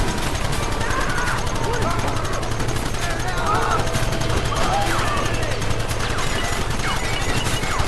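Sustained gunfire from a wagon chase shootout in Red Dead Redemption, dense rapid shots crackling continuously over a rumbling engine-like bed, with shouting voices in the mix.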